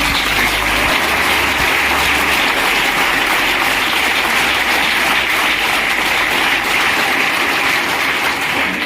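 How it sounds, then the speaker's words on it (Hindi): Loud, dense audience applause at a direct-selling motivational event fills the whole stretch without a break, with no talking over it. "डायरेक्ट सेलिंग क्यारस के लिए एक बार जोरदार ताली"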